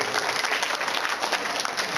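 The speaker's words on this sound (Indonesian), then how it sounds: "Tepuk tangan untuk Pak Ibrahim Saifuddin" Steady applause from a debate audience, dense and even clapping filling the room for about two seconds with no voices over it.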